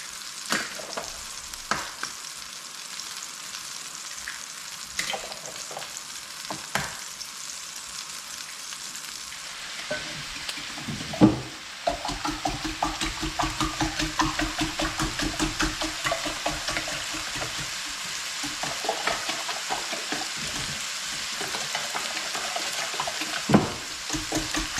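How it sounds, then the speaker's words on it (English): Eggs sizzle and fry in oil and butter in a pan, a steady crackling hiss close by, with occasional sharp clicks and a denser sizzle after a clatter partway through. "So a little oil and butter in the pan. And then I'm going to do at least 2 dozen eggs."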